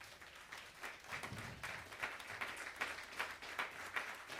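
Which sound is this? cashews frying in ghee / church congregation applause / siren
church congregation applause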